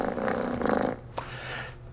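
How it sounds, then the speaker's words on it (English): A kitten purrs close by with a soft, rhythmic rumble for about a second, then goes quiet apart from a single sharp click. "Now, the purr."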